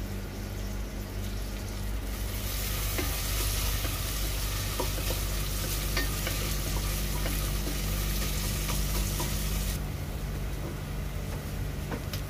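Onion, ginger, garlic and green chili frying in a pan for chicken curry, a steady close sizzle with scraping stir strokes throughout, no talking.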